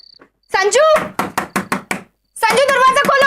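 Knuckles rap on a door in an Indian TV sitcom home, a quick run of about six sharp knocks sandwiched between loud shouted voices.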